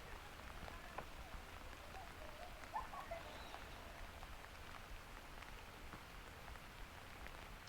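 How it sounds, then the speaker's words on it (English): Steady light rain falls outdoors at Mirror Lake, Oregon, a soft continuous patter with a few faint bird chirps in the distance. "it's raining again"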